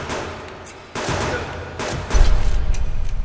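Gunfire in the hunting survival game Subsistence, several sharp shots and bursts punctuating a steady background, the loudest rapid volley near the end, with no voices over it.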